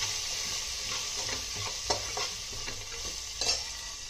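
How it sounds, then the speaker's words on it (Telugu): Spices roast in a pan for chicken chukka, a soft continuous sizzle broken by the scraping clicks of a spoon stirring them, fairly quiet and close. "ఇవన్నీ వేసుకొని బాగా వేగనివ్వాలండి"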